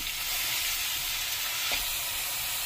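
Chopped onion fries in butter in a pan, giving a bright, continuous close-up sizzle that holds evenly throughout, with a faint stir partway through.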